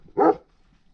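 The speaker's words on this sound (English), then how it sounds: "Maya, why are you barking?" A single short, loud bark from a pet dog named Maya, close by, followed by quiet.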